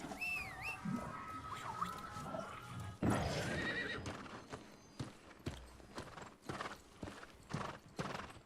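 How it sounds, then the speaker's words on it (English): A horse mount in the video game New World appears with a high, wavering whinny, then hooves clip-clop in a rapid, uneven series of close, crisp strikes. "I love the feeling of having a horse pop up between my legs"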